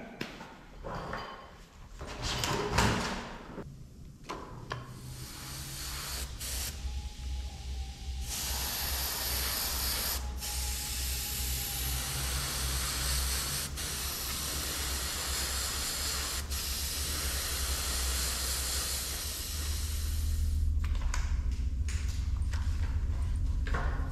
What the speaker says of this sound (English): I'm going to actually take the airbrush and I'm going to paint black right down this edge